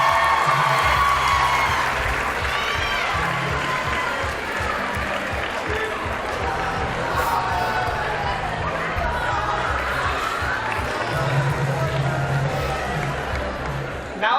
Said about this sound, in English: Let's give another round of applause for your Mission LHS candidates.